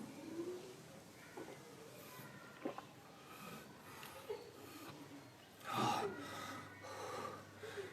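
Heavy breathing during an upper body workout: faint, repeated gasping inhales and exhales with snorting edges, one stronger breath standing out, close but quiet.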